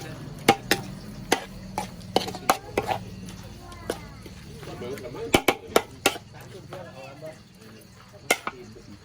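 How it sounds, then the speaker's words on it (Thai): Ingredients for Thai rat larb (om nu) dry-roasted in a pan, with a low background sizzle broken by sharp, irregular clacks and scrapes of a utensil against the pan, some in quick bunches. "ต้องคั่วให้มันเข้าสักหน่อยให้มันออกกลิ่นนิดนึงนะ"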